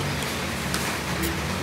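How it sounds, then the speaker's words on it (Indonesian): Steady rain falling, a soft continuous hiss of drops on surfaces, even and fairly faint with no voices. "keadaan iki masih hujan teman-teman"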